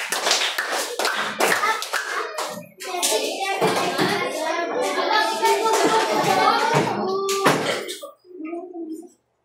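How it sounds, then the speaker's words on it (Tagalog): A primary school class gives a loud, rhythmic group cheer-clap during a values-education lesson, in bursts of sharp claps with voices joining in, ending abruptly. "bigyan niyo ako siya ng mabagsak na palakpak rin"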